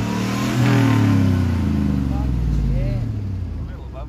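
A truck engine just back from a transmission replacement revs hard and holds a steady, rumbling roar for about four seconds, with voices heard over it.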